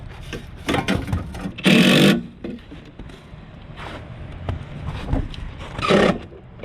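Bursts of a power driver sinking screws into a York furnace burner assembly during a heat exchanger replacement, several short whirring runs with one longer loud burst, close by among handling clatter.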